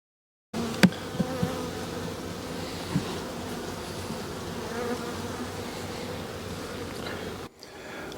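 Steady, dense buzzing of many honey bees close by in an opened winter hive in South Georgia, continuous for several seconds with a few sharper knocks and clicks of a hive tool near the start.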